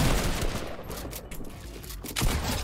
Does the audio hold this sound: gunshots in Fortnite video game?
yes